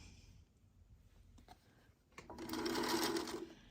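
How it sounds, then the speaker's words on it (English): A sewing machine stitches quilt squares together, a quiet whir starting midway and swelling into a steady, fairly close run for about a second before easing off, with no talk over it. "let me just sew 2 squares"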